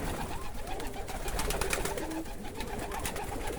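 Low murmuring coos from Polish Widin pigeons in an aviary, several overlapping soft calls with scattered rustles and wing sounds close by.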